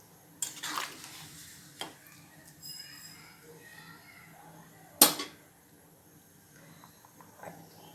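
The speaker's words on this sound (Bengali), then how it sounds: "গরম মশলা দিয়ে দিচ্ছি। দিয়ে নেড়ে নিচ্ছি।" Garam masala being stirred into a curry in a pan, a spoon scraping and clinking against the metal in a few scattered strokes with one sharp knock near the end, close and fairly quiet with a faint sizzle beneath.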